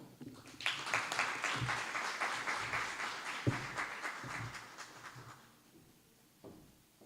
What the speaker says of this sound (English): Let's give another round of applause to our Mr. Smith